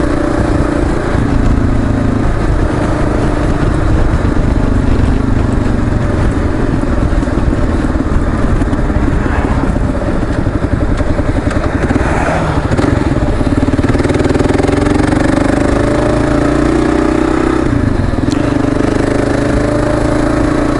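A Kawasaki KLR motorcycle rides along a road, its engine humming steadily up close with wind rushing past and the pitch shifting as it speeds up and eases off, with no one talking.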